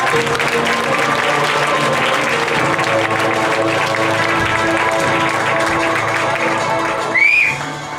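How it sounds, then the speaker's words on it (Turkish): Dense, sustained audience applause fills a school graduation cap ceremony at a year-end show. The clapping is loud and steady throughout, with a brief whistle rising near the end. "Bu kadarcık az alkış bilemiyorum."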